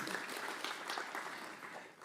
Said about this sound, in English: Once again, let's give a round of applause to WaterAid.